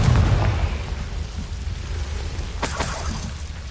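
A Confringo fire spell explodes in Hogwarts Legacy with a broad burst, then a second bright crackling blast near the end over steady low game rumble.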